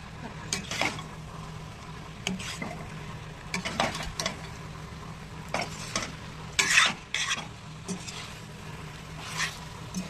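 Cauliflower 65 pieces tipped into a pan of hot oil, frying with a steady sizzle broken by repeated scraping and stirring strokes of a spoon against the pan, fairly close and with no talk.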